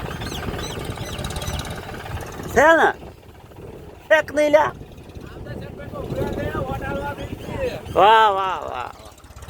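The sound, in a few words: tractor engine running in a field for sowing millet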